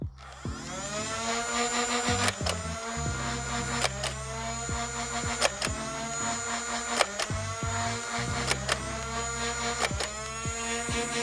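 A Nerf Elite 2.0 Motoblitz flywheel blaster whirs steadily while firing foam darts, sharp launch snaps recurring every second or so over the continuous motor hum, loud and close.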